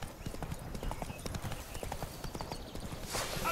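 Roach, a horse in The Witcher 3: Blood and Wine, gallops with a steady rapid clip-clop of hooves, close and moderately loud, and a short burst of wind or motion noise near the end.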